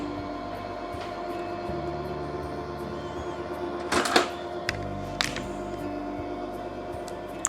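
A letterpress machine presses a floral gift card, giving a steady mechanical hum and rumble with a pair of sharp clunks and impacts midway, up close and with no talk.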